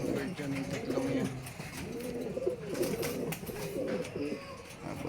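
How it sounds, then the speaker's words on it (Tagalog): Young pigeons in a loft coo softly in repeated low, throaty phrases, close and steady across the whole stretch with faint background noise. "Mga young bird dyan, yung tatlong yan."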